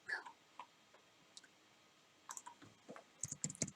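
Computer mouse clicks while editing an online job application form, scattered single clicks early on, then a quicker flurry of sharp clicks toward the end, close and quiet with no talking.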